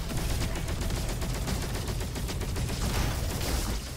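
A rapid-fire weapon in the video game Roboquest lets off a dense, unbroken stream of shots for about four seconds, loud and close, with no talking over it.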